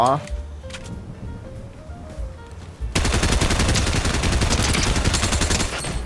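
Rapid automatic gunfire in Fortnite on Xbox Series S, a loud sustained burst of shots starting abruptly after a quieter stretch with a player talking.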